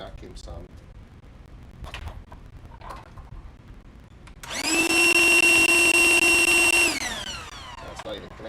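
A vacuum cleaner whines on loudly for about two seconds then spins down, with quiet rustling and handling noises before and after.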